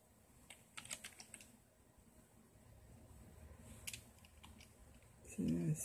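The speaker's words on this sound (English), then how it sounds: "It's hard to type with one hand." One-handed typing on an Apple II computer keyboard, a quiet, uneven run of soft key clicks with scattered louder taps, followed by a brief louder rustle at the end.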